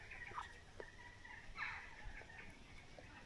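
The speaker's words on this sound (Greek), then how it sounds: "μας έχει ζαλίσει αυτή η πάπια" A duck quacks in a few short, scattered calls, faint and somewhat distant against a quiet background, with no talking.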